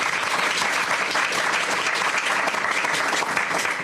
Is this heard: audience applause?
yes